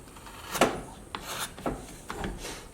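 Wood carving with a gouge, a few short scraping and rasping cuts at close range, quiet and separated by brief pauses.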